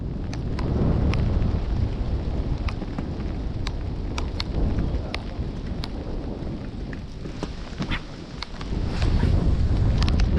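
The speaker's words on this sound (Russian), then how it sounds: "Еще ветер боковой, блин." Strong side wind buffets the microphone with a constant low rumble, mixed with rain pattering and scattered sharp drops throughout, while fishing on the Pechora River.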